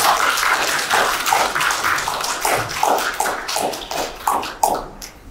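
Audience applause welcoming a guest to the stage at a community association gathering: a steady wash of many hands clapping, with louder individual claps standing out near the end.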